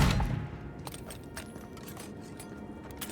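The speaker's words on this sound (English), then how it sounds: "You would think that a gunshot would spook spiders quite a lot." A gunshot fires in the fantasy video game Avowed, a sharp loud report at the start that decays into a low rumble, followed by faint scattered clicks and game ambience with no talking.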